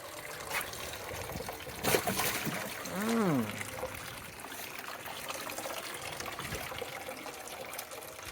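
Water trickling and pouring into a snakehead fish tank during a water change, a soft continuous dribble with brief splashes and a short voice partway through.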